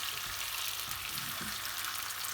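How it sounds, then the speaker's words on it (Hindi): Chopped garlic and ginger sizzle in two tablespoons of oil at the start of a chicken koyla karahi, a steady, close, bright frying hiss with no talking. "ये देखें ये भुनना शुरू हो गया।"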